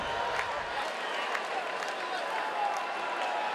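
Crowd noise at a King of the Cage women's bantamweight cage fight, a steady broad roar of cheering and scattered clapping from spectators supporting a fighter, continuous and fairly distant throughout.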